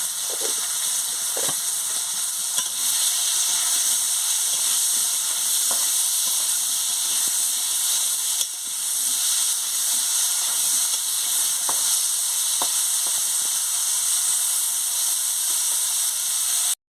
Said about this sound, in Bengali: নুনটাও দিয়ে দিচ্ছি, দিয়ে আলুটাকে ভালো করে ভেজে নিচ্ছি।